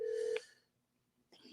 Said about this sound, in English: Let me try to call this guy again.